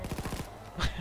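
Police gunfire in the Payday 2 heist game, a quick burst of several rapid shots followed by a louder single crack, with a voice briefly under it.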